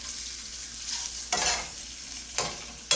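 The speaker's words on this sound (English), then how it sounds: "and we also have bay leaves, guys. So we're gonna fry them a little bit" Bay leaves fry in oil in a pan on a stove set to high, giving a steady close sizzle with a couple of sharp stirring scrapes and no talking.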